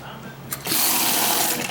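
Kitchen faucet in a 2023 park model RV fed by a 12-volt demand pump, turned on abruptly to a loud, steady hiss of running water close by, preceded by a brief knock.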